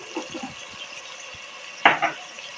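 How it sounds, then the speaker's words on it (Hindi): A spoon scrapes and clinks against a pot while spices are stirred into tomatoes for pulao, with soft intermittent scuffs and a louder metallic knock near the end, faint sizzling underneath. "इन सारे मसालों को हम अच्छी तरह से मिक्स कर लेते हैं और टमाटरों के साथ इनकी बुनाई कर लेते हैं"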